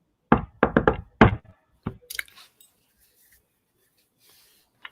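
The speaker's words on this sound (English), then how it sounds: "knock on the door." Knocking on a door during a Vampire: The Masquerade tabletop session at three in the morning: two quick bursts of sharp raps, a single later knock, then faint scuffing and quiet after.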